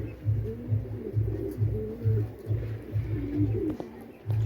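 Pigeon coos repeating in a steady rhythm of about ten low pulses, close and fairly loud, heard at a pigeon house during a pigeon-flying tournament after a bird has landed.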